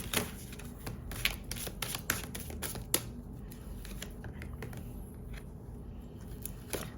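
Oracle cards are shuffled close by, with soft papery rustling and a few sharper card slaps over a steady background hiss.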